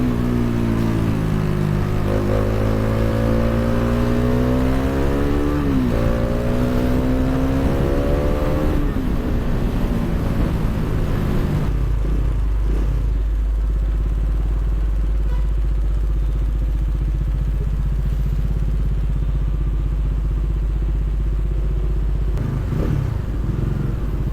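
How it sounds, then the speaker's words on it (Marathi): Passing traffic on a road near Belgaum, India, during a ride. Engines rise and shift in pitch as vehicles go by, then settle into a steadier low rumble of close road noise with no talk. "अरे भरपूर ट्रॅफिक आहे यार"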